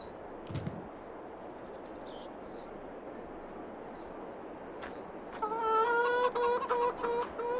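Chickens cluck in short, scattered bursts over a steady hum of ambient noise, followed by louder, sustained tonal calls toward the end, in Farming Simulator 22.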